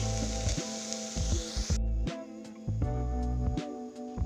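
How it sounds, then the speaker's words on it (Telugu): Green beans with grated coconut frying in a pan, making a soft steady sizzle under recurring low rhythmic thumps and tonal background sounds, moderately quiet and close. "ఈ విధంగా ఒక 2-3 మినిట్స్ వేపుకున్నాక మనము గ్యాస్ బంద్ చేద్దామండి"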